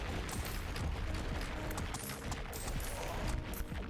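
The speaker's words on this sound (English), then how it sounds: "But at least we have some cannons now to add to the mayhem." Cannons fire in a dwarf mining incremental video game, making a dense, continuous barrage of booms and rapid shots that blend into loud, chaotic battle noise with no break.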